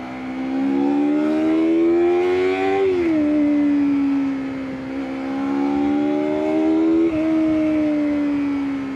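A KOVE 250RR 250cc sportbike on a test ride revs up loudly through the gears, its engine note climbing steadily and then dropping at each of two shifts before rising again, close and continuous.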